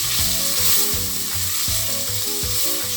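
Carrots sizzle steadily in a hot pot, a constant bright frying hiss with occasional clanks and scrapes of stirring underneath.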